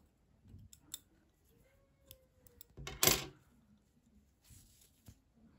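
Scissors snip through crochet yarn close by, one sharp, crisp cut amid soft handling clicks and rustles in a quiet room.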